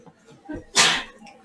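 A single sharp sneeze at a Dungeons & Dragons tabletop session, preceded by a short intake of breath and heard up close in a quiet room.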